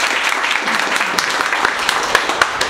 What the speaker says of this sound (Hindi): जोरदार ताली बजाओ भाई।